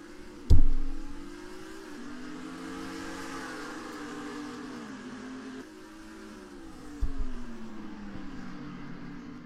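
Race cars on an oval accelerate together as the green flag drops for the second stage, a loud steady engine roar with a sharp bang near the start and another later, with no talk.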